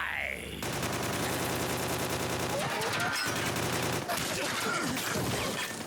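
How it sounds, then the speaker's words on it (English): Rapid small arms gunfire rattles in dense, sustained bursts during a Metal Gear Solid 4 battle on PS3, loud and continuous with occasional heavier impacts. "Small arms fire would not do much to that ship because it's armored."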